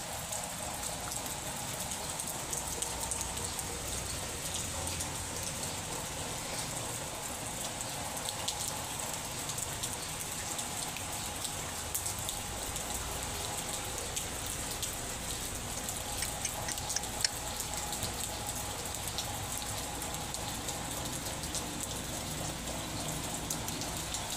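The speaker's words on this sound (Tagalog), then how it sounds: "Grabe ulan na to. Walang katapos-tapusan." Steady heavy rain from a typhoon's outer band pours down continuously, a dense hiss of drops drumming on surfaces with no break for the full stretch.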